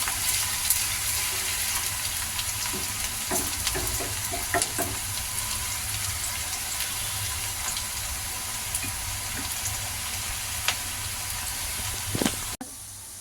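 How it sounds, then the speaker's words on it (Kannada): Onions frying in oil for vegetable fried rice, a dense continuous sizzle with occasional stirring knocks and spatula scrapes, steady and close throughout. "ಈರುಳ್ಳಿ ಚೆನ್ನಾಗಿ ಎಣ್ಣೆಯಲ್ಲಿ ಫ್ರೈ ಆಗಬೇಕು"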